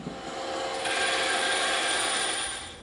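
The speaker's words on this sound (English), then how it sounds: "we're going to cut that off on the bandsaw" A bandsaw cuts through a wooden dowel, giving a close, steady, rasping buzz that swells as the blade bites and fades out after under three seconds.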